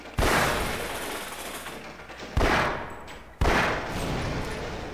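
Three loud, sharp gunshots ring out in the video game Half-Life: Source, each a sudden blast whose echo rings on before slowly fading, spaced a second or two apart.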